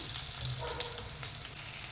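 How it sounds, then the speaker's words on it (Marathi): A tempering of cumin, mustard seeds, curry leaves and green chillies sizzles in hot oil, a brief, even, soft hiss with faint crackles, heard alone. "जिरे मोहरी तडतडली आहेत"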